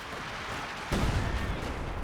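An artillery shell lands in a Company of Heroes 2 match, a single heavy boom about halfway through that swells into a rumbling low roar over a steady battlefield wash.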